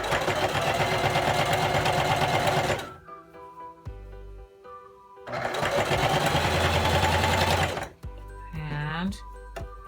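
Sewing machine stitching the side seam of a T-shirt dress runs in two fast, steady buzzing bursts close by, separated by a quiet pause, with a voice speaking at the end.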